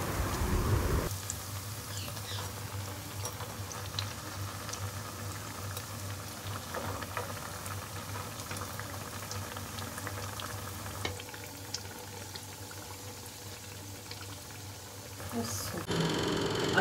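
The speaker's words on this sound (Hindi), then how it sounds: "यहाँ पर अम्मी अभी बचे हुए पीसेस को फ्राई करेंगी फिर ग्रेवी लगा लेंगी।" Leftover pakora pieces fry in hot oil with a constant bubbling sizzle. It holds steady throughout, with faint voices in the background.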